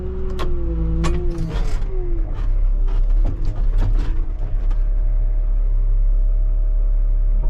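A wheel loader drives in to build a dirt berm, its diesel engine rumbling loud and close with a deep steady low drone, varying revs and scattered clanks over the first few seconds before settling into a constant hum.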